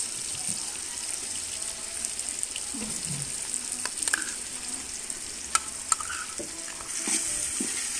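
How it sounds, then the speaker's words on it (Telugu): Ginger garlic paste frying in a biryani pot over a wood-fired stove, a low continuous sizzle with scattered scraping stirs and clinks, fairly quiet and close, no voices. "పచ్చివాసన పోయేంత వరకు అల్లం వెల్లుల్లి పేస్ట్ని ఇలా ఫ్రై చేసుకోవాలండి"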